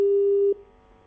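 Telephone busy signal as a call fails to connect during a phone-in broadcast, a single steady tone that holds for about half a second and then cuts off, loud and close.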